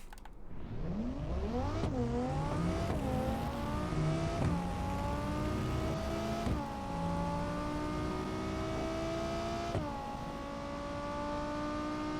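A twin-turbo car in a video game accelerating hard on a top speed run, the engine climbing sharply through several upshifts, then holding a steady high-pitched whine near top speed.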